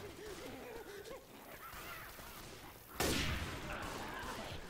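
A single loud shotgun blast in the video game Left 4 Dead 2 rings out sharply near the end, with a lingering tail, after a stretch of quieter game sounds and faint voices.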